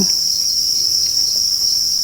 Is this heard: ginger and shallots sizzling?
no